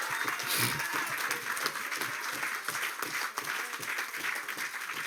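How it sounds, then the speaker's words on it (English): A crowd at a community political meeting applauds, dense, continuous clapping from many hands that holds fairly even for several seconds, with faint voices mixed in. "give her a round of applause."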